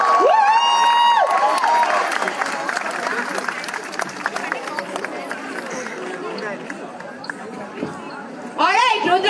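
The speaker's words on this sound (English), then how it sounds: "Everybody give a big round of applause." A crowd at a casual event cheers and whoops with broad chatter and scattered clapping, while a whistle-like voice rises early on. The noise stays loud and dense throughout and swells again near the end.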